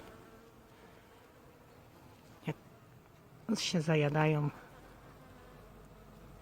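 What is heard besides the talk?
various insects buzzing, bees, flies, bumblebees on a plant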